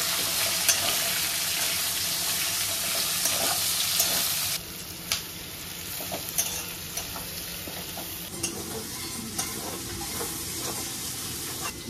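Onion paste and spices fry in a pan for a fish curry, giving a steady close sizzle with soft clicks and scrapes of stirring, easing to a quieter sizzle partway through.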